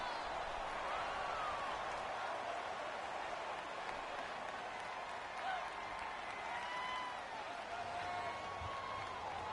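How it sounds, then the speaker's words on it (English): A stadium crowd in a Madden football video game roars and cheers in a broad, sustained wash at moderate level, with a faint voice weaving through the noise. "the crowd getting into it as we come up on a big 3rd down"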